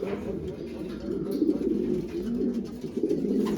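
A flock of pigeons coos on its return to the loft, giving a continuous low, rolling murmur that is fairly close and steady, with no talk over it.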